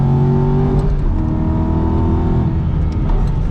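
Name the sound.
Aston Martin V8 Vantage race car engine, onboard Nürburgring lap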